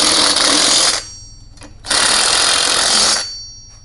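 A power tool tightens lock nuts onto bolts while a Harmar AL100 is assembled. It gives two loud, close bursts of steady motor whine separated by a brief pause.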